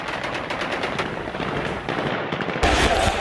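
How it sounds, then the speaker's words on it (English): Taliban fighters at Kabul airport fire celebratory gunshots into the air in rapid, loud, overlapping bursts, with a sharper, louder volley near the end and no speech over it. "Elated Taliban fighters fired several rounds in the air as they entered the Kabul airport to express their happiness."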